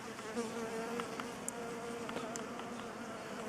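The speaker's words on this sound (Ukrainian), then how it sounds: "Пчолочки сидять, ніде не видно слідів поношення." Honey bees cluster inside a wintering hive, producing a steady, dense, low buzzing hum that is faint and continuous, with occasional brief clicks; no one speaks.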